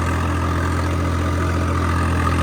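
A Swaraj 855 tractor engine running on a Punjabi farm, producing a loud, close, steady diesel drone with an even low throb and no variation in pace.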